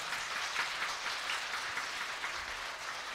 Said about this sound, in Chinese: 拍手感谢神